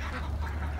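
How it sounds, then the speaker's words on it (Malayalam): Ducks quack on a private farm in Sharjah, a faint, short burst of nasal calls against a steady low hum. "കുറേ താറാവുകൾ,"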